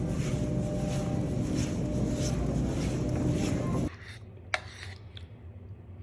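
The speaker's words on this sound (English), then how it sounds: "But listen to my pants." Noisy pants rustle and swish steadily while someone walks, a loud close broadband scraping that stops abruptly partway, followed by quieter room sounds and a single sharp knock.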